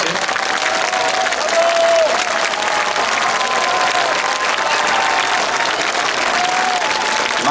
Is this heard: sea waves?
no